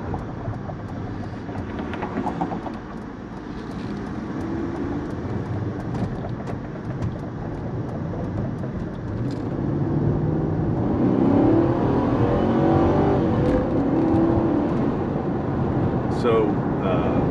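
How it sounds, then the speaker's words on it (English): 1998 Mercedes SL 500 R129 driving on a concrete road: steady loud road and tire roar with engine drone from inside the cabin, growing heavier about halfway through as the car picks up speed. "Always have the part of the video where we drive on this concrete road and it sounds"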